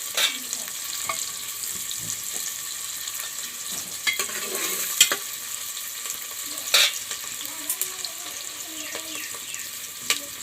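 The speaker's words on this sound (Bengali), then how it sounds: "এখন পেঁয়াজটাকে ভালোভাবে ভাজতে দেবো।" Onions frying in a pan for a chicken curry, a continuous close sizzle with intermittent scraping and clinks of stirring, and no one speaking.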